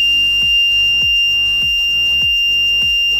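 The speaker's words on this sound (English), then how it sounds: "Buzzer will active." A DIY delay-on protection circuit's electronic alarm buzzer sounds continuously with a steady high tone, while low thumping pulses repeat about every half second underneath.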